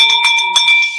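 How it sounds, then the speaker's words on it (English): A bell rung in celebration of a closed real estate deal, struck a few quick times with bright, ringing metallic tones that sustain close and loud. "Let's ring that bell."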